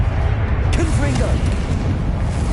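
The Confringo spell is cast in the Hogwarts Legacy video game, letting out a loud, booming explosive burst with heavy low rumble that rolls on continuously, with faint voice-like tones briefly audible within it.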